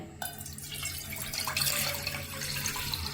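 A cup of water pours into a pot on a lit stove for masala chai, a continuous close splashing stream that starts abruptly and runs steadily to the end.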